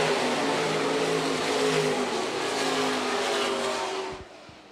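Stock car race cars roaring around a dirt track at Phillips County Raceway during the main event, a loud continuous blare of several engines running wheel to wheel that fades out near the end.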